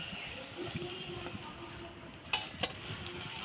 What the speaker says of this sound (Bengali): আমাদের এটা তো এখনও ভাজা চলছে তো পুরোটা ভেজে নিই